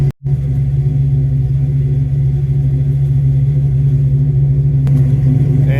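A 351W Fox Body with a Flowmaster Delta exhaust revs from about four yards away, its deep, loud, steady exhaust drone holding almost unbroken with a rough rumbling texture and no talking.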